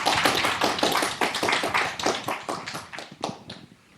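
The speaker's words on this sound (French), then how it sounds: "On peut applaudir du coup nos deux intervenants" An audience applauds the two speakers at the close of a conference on neurodiversity in education, with dense, steady clapping from many hands that thins and fades over the last second.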